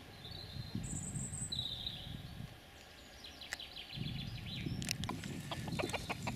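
Hens clucking softly at a moderate distance behind a wire fence, with scattered bird chirps and a low background rumble that comes and goes.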